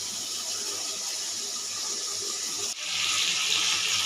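Water running steadily from a tap into a vessel to soak pieces of tamarind wood in a kitchen, a close continuous splashing rush that grows fuller partway through.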